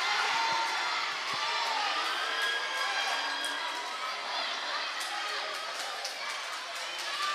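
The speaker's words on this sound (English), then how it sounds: "as this crowd gets louder" A loud basketball crowd at a men's college game between MCC and Pearl River roars and cheers steadily during free throws, with whoops and shouts rising over the sustained wash of noise.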